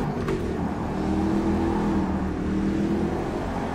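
Simulated Panoz Roadster engine in the rFactor 2 racing game holds a steady, droning hum at a constant pitch, fairly loud and unbroken, with no speech.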